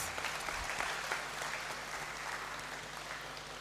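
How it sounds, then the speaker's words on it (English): Steady applause from a ceremony audience in a large university hall at a graduation congregation, dense continuous clapping for a speaker that holds at an even level throughout with no talk over it. "graduates, I believe she deserves another round of applause"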